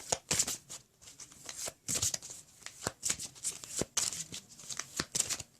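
Cards being shuffled in quick riffling bursts, several rounds in a row with brief pauses between, close and crisp.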